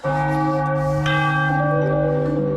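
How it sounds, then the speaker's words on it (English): A loud, sustained bell clangs out after a Philadelphia 76ers win over the Boston Celtics in Game 2, tying the series 1-1, its bright ringing tone swelling and holding steady for a couple of seconds with no talk over it. "Ring the bell."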